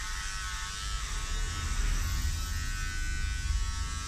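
Electric hair clippers buzz steadily while cutting a number 3 haircut, a close, continuous motor hum moved slowly through the hair, with no speech.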